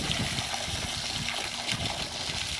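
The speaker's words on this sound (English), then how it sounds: "how long it takes to fill up this 5-gallon bucket" Steady rushing water pouring into a 5-gallon bucket during a flow test, a continuous close gush with no pauses and no voices.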